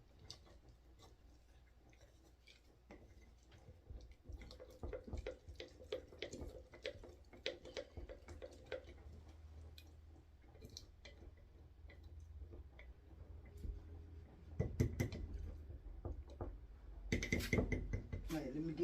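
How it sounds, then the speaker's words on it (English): Sourdough mixture stirred in a bowl, producing faint irregular tapping and scraping knocks that grow louder and denser toward the end, with quiet talk at times. "We're going to give it a good stir"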